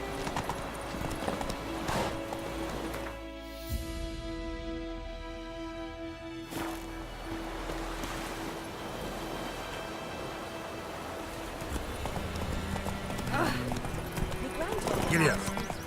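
Horse hooves trotting in The Witcher 3 on the road near White Orchard, a steady clip-clop rhythm running beneath game music, ambient sound and spoken dialogue between characters.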